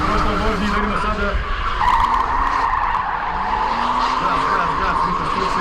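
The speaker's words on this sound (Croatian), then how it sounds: "evo ga prebacuje auto kod ova 4 čunja što smo rekli" A drift car slides through a set of cones during qualifying at the Croatian Drift Challenge, with tire squeal and a roaring engine sustained throughout, loud and continuous while a commentator talks over it.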